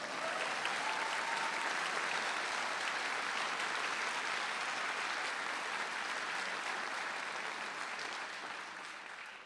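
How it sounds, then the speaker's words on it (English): Sustained applause from a large audience at a Carver College of Medicine Associated Medical Sciences commencement ceremony, steady and dense throughout and tapering slightly at the end. "Let's have a round of applause."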